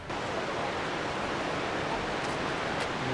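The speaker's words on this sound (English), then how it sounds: "you can hear the water rushing. So we're at Gibbon's waterfall," Gibbon Falls in Yellowstone National Park rushes in a steady, loud roar of falling water that stays broadband and unbroken throughout, with no clear voices on top.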